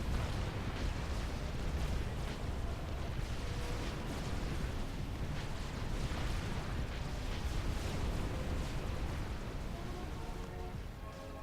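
A commander unit blows up during a Supreme Commander skirmish battle on Seton's Clutch, a dense, roaring explosive rumble with crackling bursts that fills the whole stretch at steady loudness, with no voices over it.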